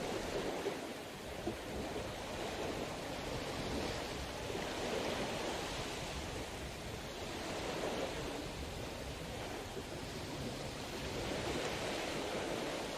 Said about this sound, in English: why is the water noise so bloody loud?